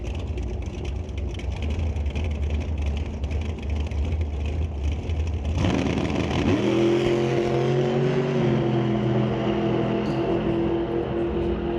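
Super Gas drag race car at an NHRA divisional event blasting down the strip, a loud sustained engine roar that shifts pitch partway through and then winds down steadily, heard alone without talk.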